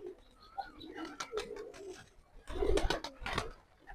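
A flock of Jalali pigeons at a house coos repeatedly in soft, throaty bursts, with wing flutters and scuffling noises mixed in and a couple of sharper clattering knocks near the end.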